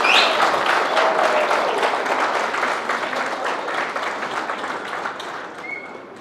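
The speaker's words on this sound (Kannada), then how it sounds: "ಇಷ್ಟೊಂದು ನೀವು ಚಪ್ಪಾಳೆ ಹೊಡೀತಾ ಇದ್ದೀರಿ" Lecture audience giving sustained applause, dense and even at first, slowly thinning out over several seconds, with no speech over it.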